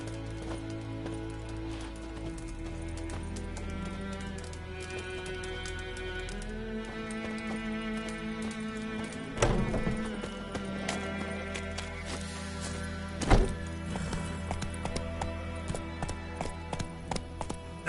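Hooves of a horse in the Witcher 3 video game clop and thud over game music, growing louder near the end with a few sharp impacts, and a whinny appears among the sounds.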